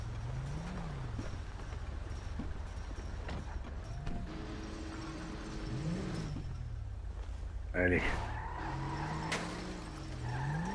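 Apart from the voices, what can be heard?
vehicle engine running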